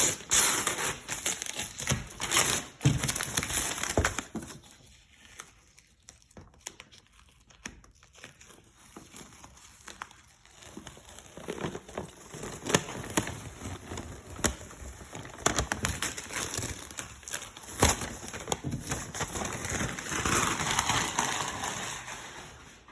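Plasti Dip rubber coating being peeled off the emblems of a Toyota 4Runner: close, crackly crinkling and tearing sounds in irregular bursts, with quieter pauses between pulls.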